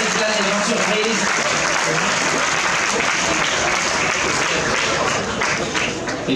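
Loud sustained applause from a crowd at a Geneva sailing regatta awards ceremony, dense clapping throughout with voices and an amplified announcer underneath, easing slightly at the end.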